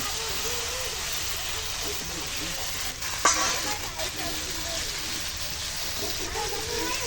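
Broiler chicken meat goes into a hot pan on a clay stove and starts frying, a loud continuous sizzle with a sharp clatter as the meat drops in, then stirring scrapes under the crackle.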